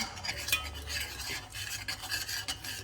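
Cacao, coconut oil and maple syrup are mixed together, with soft, faint scraping and stirring rubs in a quick, uneven rhythm.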